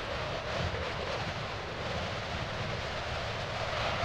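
Cold wind blows steadily in Final Fantasy IX on PS4, a broad continuous rush at moderate level with a low rumble, holding constant with no voices throughout.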